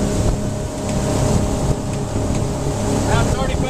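A Regal 2860 motorboat runs at wide open throttle around 35 knots, its loud engine roar mixed with wind and water rush, with a voice talking over the noise.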